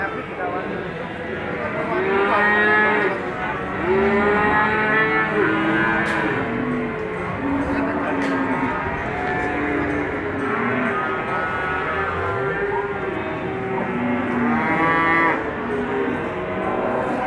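Simmental cattle moo at a busy morning cattle market: several loud, close calls come one after another and overlap, with people talking in the background throughout.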